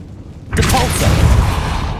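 Depulso force spell cast in Hogwarts Legacy: after a quiet half second, a sudden loud whooshing impact bursts in and sustains as a dense, rumbling blast with a sweeping tail.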